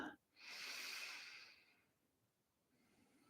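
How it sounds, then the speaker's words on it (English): A single deep, slow breath in a calm guided relaxation setting, a broad airy rush that swells quickly, holds for about a second, then fades into near silence. "Take a deep and clearing breath."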